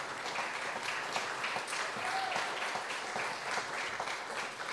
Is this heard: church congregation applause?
yes